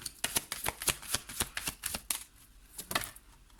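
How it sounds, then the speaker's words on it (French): Oracle cards are drawn and shuffled from a deck, giving a rapid string of crisp, close papery flicks and snaps in an even rhythm, pausing briefly before a few final flicks. "Je vais prendre 2 cartes."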